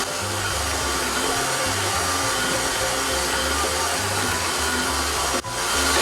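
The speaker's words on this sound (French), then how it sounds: "je vais laisser tourner la pâte dans le pétrin, pas plus vite, pendant une quinzaine de minutes" A dough kneading machine turns bread dough in its bowl with a steady, loud mechanical whir and low rhythmic rumble, running continuously with no talking.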